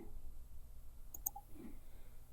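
A computer mouse gives a couple of quick, faint clicks close together in a quiet room, with a low background hum and no speech.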